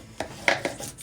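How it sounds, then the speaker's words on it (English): A bone folder burnishes tape onto a chipboard album box in a few quick, close rubbing and scraping strokes, each a short dry swipe with brief pauses between. "now we're going to grab our bone folder and give all of our tape a really nice burnish down."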